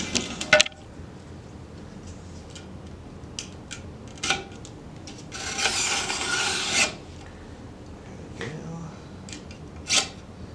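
Blade trimming screen-printing mesh and thick adhesive, a dry rasping cut that swells into a louder scraping stretch midway, with scattered sharp ticks and scrapes around it, close and fairly quiet, no voices.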